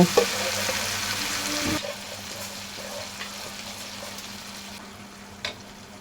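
Onion, garlic, green chili and garam masala frying in a pan, a soft steady sizzle with a faint stirring scrape near the start and a low hum underneath, quiet and without talk.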